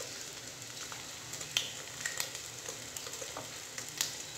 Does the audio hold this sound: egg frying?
yes